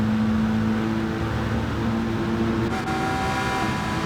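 Race car in Gran Turismo 7 at Fuji during a Manufacturers Cup race, with a Porsche mentioned, accelerating as a steady engine drone and tonal whine that holds throughout, close and moderately loud, with no talk.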